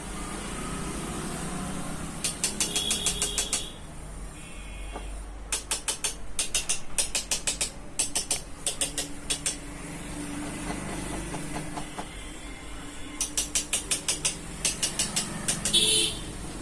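Ink-clogged gears of a Toshiba 2303 photocopier being turned by hand give off rapid ratcheting clicks in several separate runs, close up, over a low steady hum.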